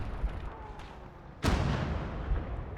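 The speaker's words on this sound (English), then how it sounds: "So I'm taking aim with my rocket artillery" Rocket artillery fires in the Gates of Hell war game, one sudden broad blast with a rumbling tail after a stretch of low ambient rumble, loud and close, no talk.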